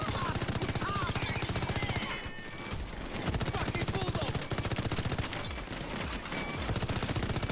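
Rapid automatic gunfire in the video game Payday 2, dense bursts of machine-gun fire running almost continuously with brief gaps, loud and busy throughout.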